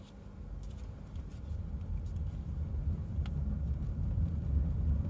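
A 2006 second-generation Prius converted to a lithium electric vehicle drives along at low speed, giving a steady, quiet rumble of road and tire noise that slowly rises, with no voices.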